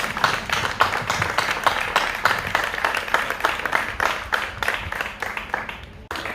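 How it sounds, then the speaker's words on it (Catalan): Steady applause from a crowd at an outdoor pensioners' rally in Cabrera, many hands clapping in a dense, even patter close by that runs unbroken for several seconds before briefly dipping near the end. "Un aplaudiment."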